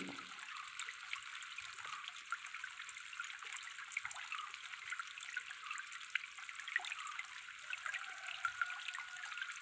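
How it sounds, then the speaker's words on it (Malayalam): Liquid compost slurry made from kitchen waste, 100 ml of it, is mixed into 10 litres of water, giving a faint, continuous trickle and splash of water close by, with no talking. "നൂറ് മില്ലി എടുത്തു പത്ത് ലിറ്റർ വെള്ളത്തിൽ കലർത്താൻ പോവുകയാണ്"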